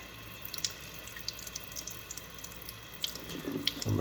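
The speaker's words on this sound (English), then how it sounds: "I'm just letting the water run through it." Tap water runs over the roots of a Phalaenopsis orchid being repotted. It makes a soft, steady trickle with small drips, quiet and close, with no voices.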